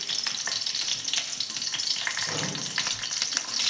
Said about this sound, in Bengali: তাহলে এর ভেতরে আমি কটা কাঁচা লঙ্কা ফাটিয়ে ফোড়ন দিয়ে দিচ্ছি।